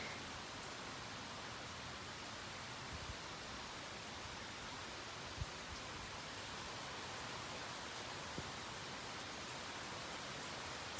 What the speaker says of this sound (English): Kind of good just standing here and listening to the rain